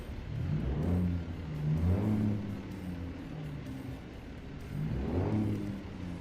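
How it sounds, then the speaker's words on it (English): Truck engine in American Truck Simulator, a steady loud drone that rises and falls through several rev swells, running alone without talk. "We'll be running this engine for a minute"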